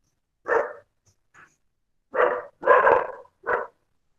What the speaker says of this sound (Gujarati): કૂતરાનો અવાજ આવે છે